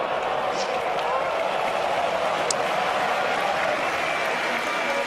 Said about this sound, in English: the Hawk gets applause from the crowd